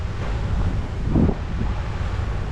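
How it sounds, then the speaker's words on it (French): Loud, rumbling wind buffeting the microphone at a high viewpoint in Constantine, Algeria, steady with a brief gust swelling midway. "ça arrive, on dirait que c'est le vent"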